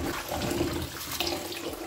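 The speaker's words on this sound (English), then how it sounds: "Rinse the yam because, you know, it's a root crop" Tap water runs steadily over a yam being rinsed at the sink, its root-crop peels dirty, with a continuous close splashing hiss and no talking.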